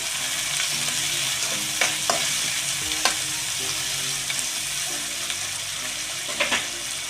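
Carrot and tomato pieces stirred in a hot pan for puri curry, a continuous sizzle with repeated spatula scrapes and knocks at an irregular pace, and no voices.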